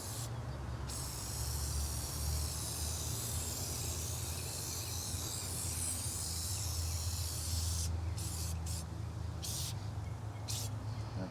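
Cleaning foam hisses out of a sprayer onto a car in a loud, continuous spray lasting several seconds, with brief pauses near the end and a faint low rumble underneath.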